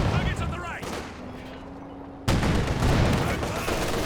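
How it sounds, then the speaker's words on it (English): Mortar shelling in Company of Heroes 2: booming impacts and rumbling gunfire crash in bursts, with a brief lull and then a loud, sustained barrage. "And the mortar just shelling away up to Vet 2 now."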